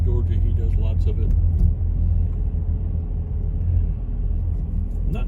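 A car drives along a mountain road in Georgia, heard from inside the cabin as a steady low engine and road rumble, fairly loud and continuous throughout.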